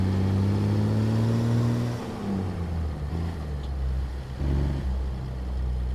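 An International WorkStar truck engine in a driving game mod drones loudly and close, a deep steady hum that shifts down in pitch partway through as it changes gear, then carries on rumbling with no speech.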